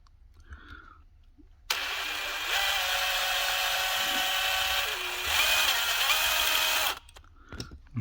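A small power drill bores out the head of a rivet on a Mini GT Datsun Wagon model car, a steady high whine running about five seconds that shifts pitch as it bites, with quiet handling noises before and after.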